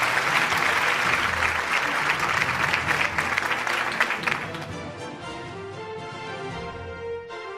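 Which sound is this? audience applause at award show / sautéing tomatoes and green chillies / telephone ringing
audience applause at award show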